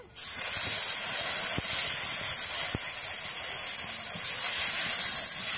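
Water is poured into hot oil with radhuni and dried red chili tempering for a Bengali greens curry. A loud, harsh hiss bursts in suddenly and holds steady and close to the end, alone without talk.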